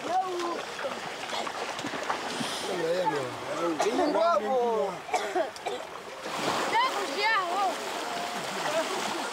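Splashing water as initiate boys are washed by elders in a river in Zambia, steady splashes and flowing water beneath loud overlapping voices and chanting throughout.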